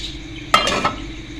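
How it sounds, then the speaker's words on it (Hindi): Chicken stirred in a pan over a medium flame, with a brief scraping clatter of a spoon against the pan and a second softer scrape, over a low steady background hum. "इसको मिक्स करेंगे और मीडियम फ्लेम पर हमने इसको कुक कर लेना है"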